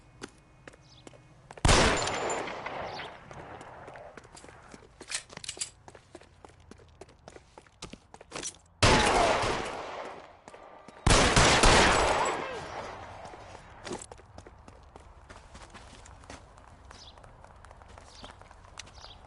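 Gunfire in the detective video game L.A. Noire: a few loud, sharp bursts of shots spaced several seconds apart, with footsteps and quieter scuffling between them.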